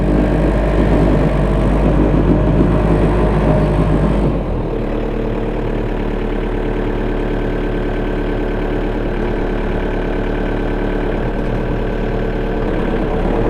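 A Kioti RX 7030 tractor's diesel engine runs loud and close, a steady low drone whose pitch drops slightly a few seconds in and then holds constant.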